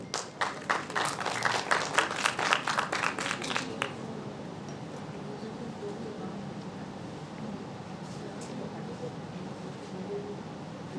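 An audience at the Ten Inspiring Young Minds Awards breaks into loud, rapid rhythmic clapping for about four seconds before it stops abruptly, leaving a quiet hall with faint murmuring.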